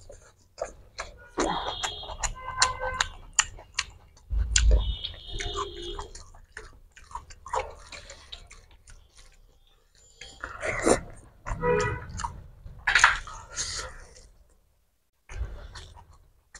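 Moist, clicky chewing of egg during a bhorta bhat eating challenge, with close, irregular mouth sounds spread throughout and brief voices speaking between bites.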